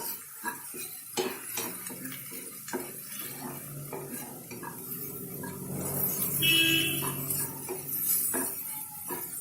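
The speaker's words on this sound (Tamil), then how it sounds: "நல்லா கலந்து விட்டுக்கோங்க." A utensil scrapes and clinks against a pan as softened onion and capsicum are mixed with cinnamon powder, pepper and salt, with irregular close metallic knocks over a faint sizzle.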